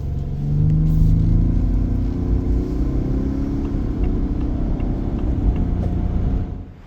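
A 2025 Ford F-150 Lariat pickup with a 3.5-liter twin-turbo PowerBoost V6 drives along, giving a steady low rumble that swells slightly early on, then holds even before cutting off at the end.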